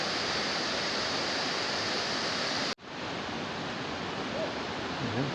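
The River Goit flows near New Mills as a steady, dense broadband rush of water, loud and constant, broken once by a brief cut before continuing just as strongly.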